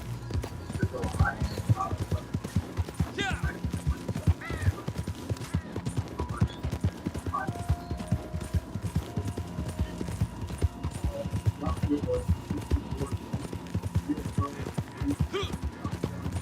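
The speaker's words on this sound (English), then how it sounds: "Get on my horse." Horse hooves pound in a steady rapid clip-clop rhythm as a horse gallops in Red Dead Redemption 2, continuous and close, with occasional game sounds and a voice talking over it.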